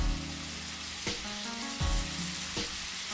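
Broccoli, green peppers and onions sizzle in a hot frying pan, making a steady close crackle. A few clattering stirs or knocks break in along the way, with no talk.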